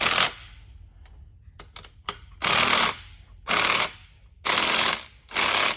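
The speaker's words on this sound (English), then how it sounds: "get the old socket in there" A ratchet wrench turns a socket on a Detroit diesel turbine housing, clicking in four loud, regular bursts of rapid pawl ticks with a few separate clanks before them, close by and with no talk.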